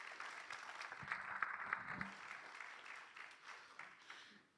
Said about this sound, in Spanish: Vamos, denle fuerte ese aplauso al Señor.